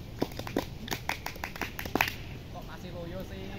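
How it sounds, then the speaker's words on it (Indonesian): A group of children does the Scout clap (tepuk pramuka) twice, a brisk burst of rhythmic handclaps lasting about two seconds. A voice follows as the clapping stops. "Dua kali tepuk pramuka."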